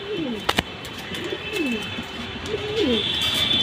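Orange pigeons coo in soft, repeated rolling calls at close range, with a couple of sharp knocks early on and light background hiss.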